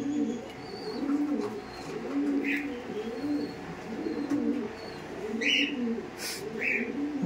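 Racing pigeons in a loft cooing in repeated low, rolling phrases, close and fairly loud, with a few brief higher chirps and faint background noise between the coos.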